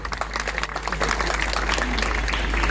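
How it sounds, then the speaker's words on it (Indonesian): A burst of applause from a large crowd at an outdoor political rally, many hands clapping together in a dense, sustained patter that holds steady to the end. "Tepuk tangan dulu."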